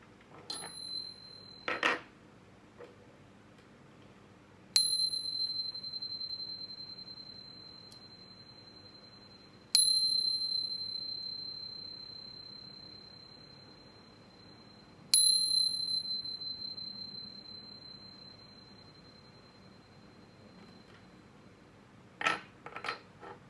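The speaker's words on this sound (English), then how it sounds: "let's chime." A bright metal chime is struck three times at even intervals, each ring clear and close, sustaining and slowly fading in a quiet room, with a few faint handling taps before and after.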